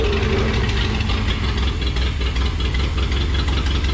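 A barn-find 1936 Ford pickup's flathead V8 runs loud and close, a steady rough idle with a continuous low rumble and knocking pulse throughout, no voices over it.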